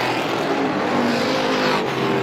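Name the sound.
stock cars racing on a speedway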